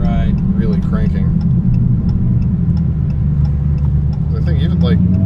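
A supercharged Dodge Hellcat engine with an upgraded pulley rumbles steadily and loudly throughout, with a people talking over it.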